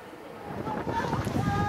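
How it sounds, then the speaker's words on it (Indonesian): Strong wind with rain sweeping through the Margonda area of Depok, West Java, a steady broad roar that swells slightly over its length, with gusts buffeting the microphone. "Hujan disertai angin kencang yang melanda kawasan Margonda, Depok, Jawa Barat"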